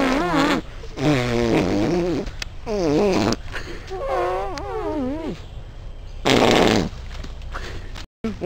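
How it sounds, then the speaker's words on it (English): Long, loud, wobbling farting sounds in drawn-out bursts, one after another, with short gaps between them. "Side effects may include steadfast farting."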